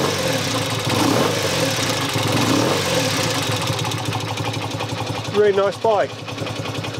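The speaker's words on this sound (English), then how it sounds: "When that's really warm, it'll tick over a little bit faster." A 1965 BSA A65 Lightning Clubman motorcycle engine idles steadily and close, ticking over slightly slow while not fully warm, with a person speaking briefly over it near the end.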